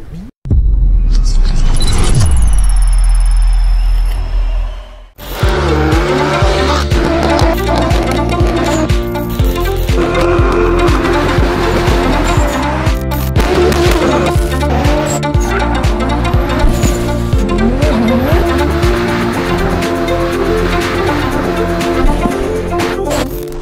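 A Plymouth Road Runner muscle car with a 390 hp V8 cranks briefly, then fires into a loud, deep rumbling idle with an uneven throb that continues steadily, close by and with no talking.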